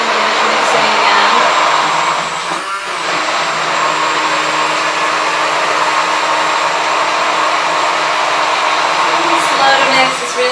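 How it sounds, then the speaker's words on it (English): An electric mixer runs steadily through thick homemade dipping sauce, a continuous motorized whir that holds for the whole stretch with only a brief dip partway through. "Mixing again."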